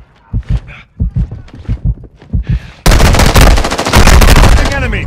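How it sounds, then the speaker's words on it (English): Dense, loud gunfire from Call of Duty: Modern Warfare II erupts after a sparse run of single shots, rolling into continuous automatic bursts that fill the rest of the moment. "You are taking effective fire."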